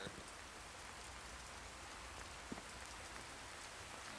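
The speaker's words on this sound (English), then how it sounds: "Rain is picking up." Steady rain in the Fallout 4 video game, played with survival mods, hisses evenly throughout with a single faint tap partway through and no talking.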